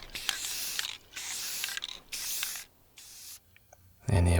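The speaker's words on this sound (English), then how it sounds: "we're going to take this outside and then spray it with the color right there" Spray can hissing paint onto a die-cast Hot Wheels toy car outdoors: four close, steady bursts of about half a second to a second each, separated by brief pauses and faint rattles, ending in a louder knock.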